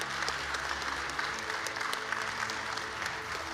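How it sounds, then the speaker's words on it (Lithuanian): An audience at a teachers' innovation award ceremony applauds steadily, a full room of clapping that runs loud and unbroken throughout. "Palydėkime aplodismentais"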